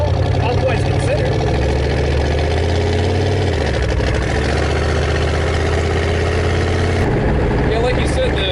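Idling engine of a custom 1931 Ford truck fitted with a Buick six, a steady low rumble running close and fairly loud throughout, with people talking over it.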